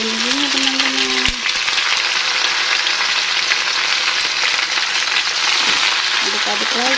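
Cassava leaves stir-fried in a hot pan give a loud, continuous sizzle and crackle throughout, with brief talking at the start and end.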